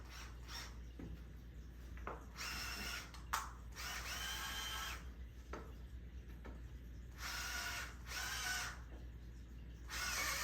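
An IKEA power driver tightening bolts on a tent frame, running in several bursts of a few seconds each with short pauses between, at moderate loudness with no talking.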